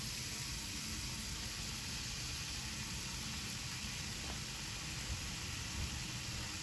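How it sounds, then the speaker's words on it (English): Pepper and onion soften and brown in a pan, giving a steady, even sizzle and hiss with no breaks, fairly quiet and alone without any voices. "Now I'm going to brown up, soften the pepper and onion."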